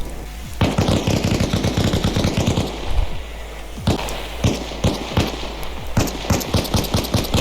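Rapid bursts of automatic gunfire in the video game ARMA Reforger crackle in quick rhythmic volleys, pausing briefly before more scattered shots ring out, loud and close.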